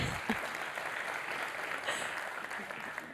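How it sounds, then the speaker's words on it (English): Audience applause at a conference event, a steady patter of many hands clapping at a fairly low level, continuing evenly throughout with no pauses. "Now the applause was delayed."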